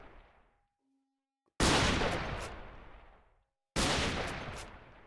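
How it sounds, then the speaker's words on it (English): Two loud, sharp rifle shots ring out a couple of seconds apart in Minecraft, each a sudden blast with a long, fading echoing tail, and no voices are heard. "Just using my normal rifle, not the sniper rifle"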